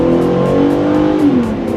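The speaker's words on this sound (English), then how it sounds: "I'm going to rev it a little bit too" The engine of a 2013 Mazda CX-9 SUV, normally aspirated and running at high altitude, revs loudly up close, holding a steady droning pitch that climbs and then dips slightly as it accelerates.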